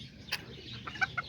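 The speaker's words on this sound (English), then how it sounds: "right here I put all the roosters" Roosters in a backyard flock give a few brief, soft clucks and calls at moderate distance over a quiet background.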